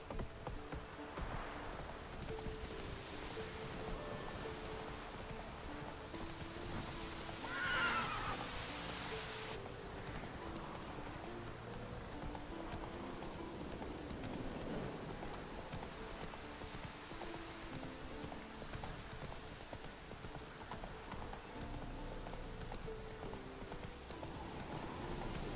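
Horse hooves clip-clop steadily in the rain in The Witcher 3: Wild Hunt, a quiet rhythmic trotting under a continuous patter of rainfall and ambient noise, with no clear neigh standing out.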